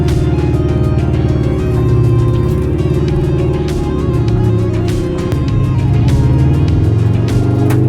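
Subaru-powered, fully customised VW T2 pickup driving and accelerating, its engine a loud, close, steady rumbling drone that rises and falls slightly in pitch as it pulls, with no speech.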